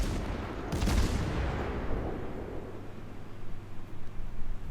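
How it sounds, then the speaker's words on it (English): Warship guns fire at a destroyer in World of Warships: a loud heavy boom rolls into a long rumbling decay under sustained ocean and engine noise. "Take some pot shots at this DD while I can see him"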